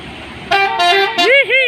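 A Strobo bus sounds its telolet horn in a bright, multi-tone musical pattern: several sustained chords followed by swooping, warbling notes, loud and close on the road.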